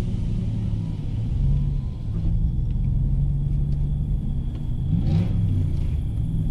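A 2015 Chevy truck rolls through turns in four-wheel drive, a steady low engine rumble heard from inside the cab with a slight rise around the middle, no voices.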